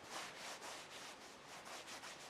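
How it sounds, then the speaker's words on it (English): A finger rubs back and forth across dense, soft hoodie fabric, producing faint close-up scratchy swishes in a quick repeating rhythm. "Just running my finger and of course touching and feeling the material, which is quite dense"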